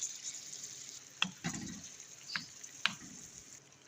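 Chicken liver frying in a pan with garlic ginger paste, a soft steady sizzle with a few sharp clinks and scraping stirs of a spoon, quiet and close, no talking.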